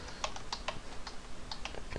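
Computer keys typed in a quick irregular run of crisp clicks, close to the microphone, in a quiet room with no voices.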